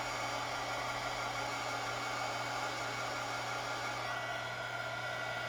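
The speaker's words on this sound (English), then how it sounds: "My other dryer blew out, so I have to use my embossing heater." An embossing heat tool used in place of a broken hair dryer, blowing hot air over thin wax for a craft seal, makes a steady, loud whirring hum with a constant motor drone and no breaks.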